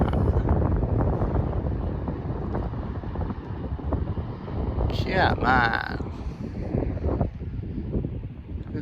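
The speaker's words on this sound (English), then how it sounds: "You can still hear it's windy" Strong wind roars in gusts across a microphone outdoors in the Scottish countryside, a loud, rumbling, continuous buffeting with someone speaking briefly over it.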